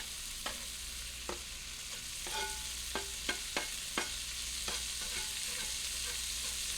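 Chopped onion frying in bacon grease, a quiet steady sizzle broken by several sharp clicks and taps of a utensil on the pan.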